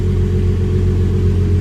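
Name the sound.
Hyundai Genesis Coupe engine with new downpipes and test pipes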